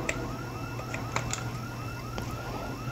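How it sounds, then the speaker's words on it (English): A car alarm blares in the zombie survival game Project Zomboid, a repeating rising electronic whoop cycling rapidly and steadily, loud and continuous with a few sharp clicks over it and no talk. "Oh my goodness, that car alarm."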